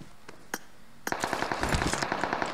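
Gunfire in the mobile battle royale game PUBG Mobile: a few scattered single shots, then a rapid, steady automatic burst, moderately loud and without speech.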